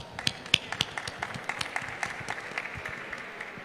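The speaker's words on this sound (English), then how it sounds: "I would love to applaud you." An audience at an oncology clinic launch event claps, with sparse, distinct hand claps in a loose rhythm. The claps are sharpest at the start and thin out toward the end.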